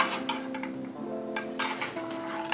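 A spatula scrapes and knocks against a metal pan, working loose a giant cookie for an ice cream sandwich that is stuck to the pan; the scraping and clinking is fairly close and steady, with a tonal background hum underneath.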